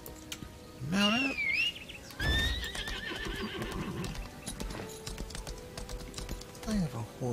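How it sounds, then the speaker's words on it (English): A horse in the online role-playing game Lost Ark whinnies loudly when mounted, followed by rhythmic clip-clop hooves and a second shorter neigh later, with someone talking and keyboard clicks mixed in. "I have a horse. This is great."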